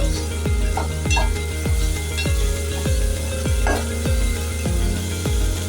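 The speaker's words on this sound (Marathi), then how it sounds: "आता आपण घालूया त्यात एक टॉमॅटो परतवून घेऊया" A tomato sautéing in a pan gives a constant, even sizzle, with soft rhythmic thuds repeating about twice a second as it is turned.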